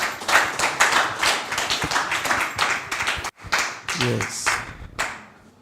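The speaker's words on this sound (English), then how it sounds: "I think he deserves another round of applause," Audience at an electoral officers' seminar clapping in a brisk, dense round that runs on steadily, breaks off for a moment and picks up again, close and loud, with a brief spoken word.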